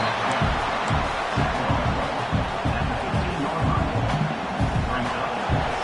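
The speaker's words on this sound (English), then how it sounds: "this crowd coming to life here, trying to help the defense get a stop with the offense pinned back" A football stadium crowd roars steadily throughout, a dense continuous wall of cheering and babble at a game as the home defense tries to get a stop with the opposing offense pinned deep in its own territory.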